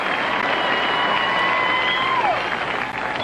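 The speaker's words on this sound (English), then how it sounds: "Don't applaud all night." Sustained, dense applause from a concert audience rolls on loudly and evenly throughout, with a faint voice drifting over the crowd.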